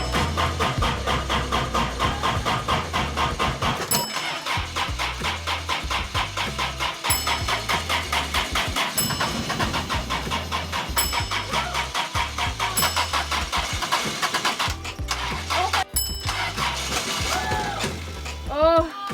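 An old Toyota RV engine cranks and turns over after its battery was charged, with a rhythmic starter whir, then a rough running motor and occasional revving, and people talking nearby.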